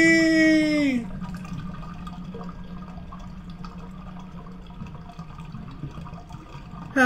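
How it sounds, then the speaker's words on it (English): A cartoon toilet flush, a long watery gurgling rush and swirl that runs steadily for several seconds after a brief tonal cry at the start, moderately close. "He's gonna flush me!"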